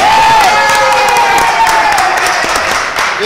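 Steady applause from a crowd, with cheering and shouts mixed in, loud and continuous the whole time.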